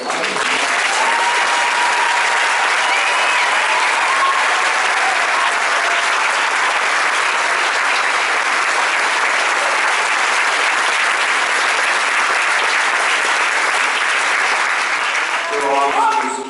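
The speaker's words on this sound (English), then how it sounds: "we forgot to give a round of applause to our retirees" An audience at a United States Army retirement ceremony gives the retirees a long, even round of applause, a loud continuous wall of clapping that holds steady before tapering slightly at the end.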